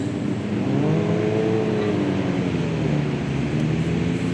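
Sur-Ron Ultra Bee electric motorcycle at a gymkhana competition start, its rising and falling whine sweeping up and down over a steady outdoor background, close and fairly loud, with no talk.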